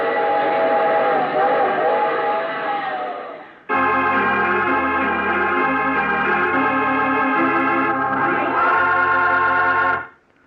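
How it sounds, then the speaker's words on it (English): A radio drama sound effect of a train running with its whistle: loud, sustained, chord-like whistle blasts in two long sections over rumbling rail noise, cutting off near the end. "I take this same train every week at this same time."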